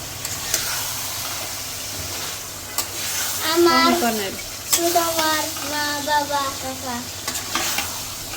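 Meat with fried onions is stirred and fried in a pan for biryani, with a continuous sizzle and stirring scrapes. Voices talk briefly over the cooking noise in the second half.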